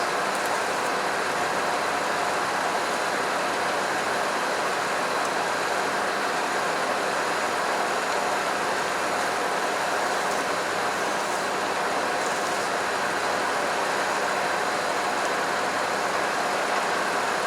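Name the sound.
old 78 vehicle engine running after first start in two years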